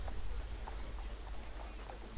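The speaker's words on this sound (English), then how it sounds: "I love horse noises." Horse hooves clip-clop faintly in a steady walking rhythm during an Assassin's Creed 3 cutscene, set low under a constant background hiss.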